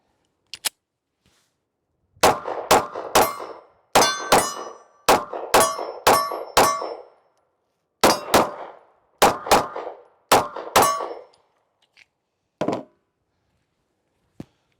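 SAR9 sub-compact concealed-carry pistol firing two magazines: a long series of sharp, loud gunshots in clustered strings with brief pauses between, plus a couple of isolated shots at the start and end.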